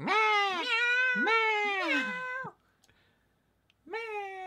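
A cat meows three times in quick succession, loud and close with drawn-out, wavering cries. A brief silence follows, then one more long meow.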